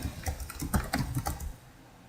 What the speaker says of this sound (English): let's just say I'm going to type in how to lose weight